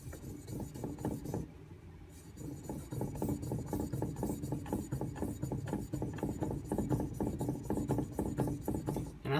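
A knife is stroked back and forth on a hard Suehiro whetstone in a steady, even rhythm of gritty rasping strokes, close and moderately quiet, with a short pause near the start.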